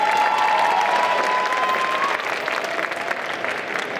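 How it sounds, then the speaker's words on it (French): Audience applause and cheering at a cosplay contest jury presentation during a Japan manga convention in Saint-Étienne, a dense, steady roar of clapping with a whistle-like cheer early on, loud and sustained throughout. "Faites un maximum de bruit pour Blue Yoshimura."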